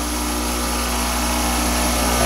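A grinder wheel runs on a lathe carbide tool grinding rest with a diamond dressing fixture. It gives a steady, loud, continuous motor hum and whine with no talking over it.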